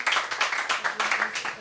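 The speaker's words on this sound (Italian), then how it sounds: "Un ciao applauso, Sandro, Sandro, buonasera." Studio audience on an Italian TV show applauds in a short burst of rhythmic clapping, fairly loud and close, with voices faintly mixed in.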